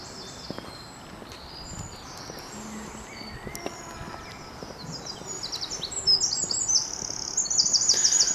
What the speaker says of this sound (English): Lots of nice bird song today.